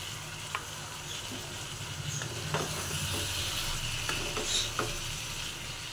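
Spices being stirred into a pan of chicken curry over a low-to-medium gas flame, giving a soft, steady sizzle broken by a few light scrapes and taps of the spoon against the pan, with no voices.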